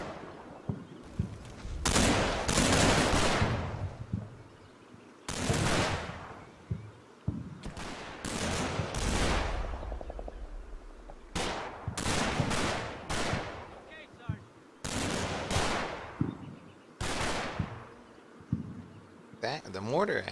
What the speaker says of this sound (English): Alright, let's see how this machine gun battle goes.